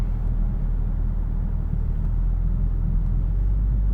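Kia Stinger with an axle-back exhaust heard from inside the cabin, a steady, deep droning rumble that holds evenly throughout, loud and without talk.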